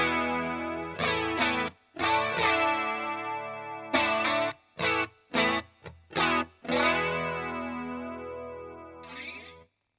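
A guitar plugged straight into a Boss CE-1 chorus unit sounds dull and muffled, with ringing chords cut by short stops and choppy staccato stabs, then one long decaying chord.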